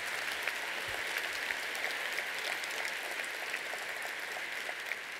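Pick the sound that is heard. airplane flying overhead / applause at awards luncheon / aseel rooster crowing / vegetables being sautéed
applause at awards luncheon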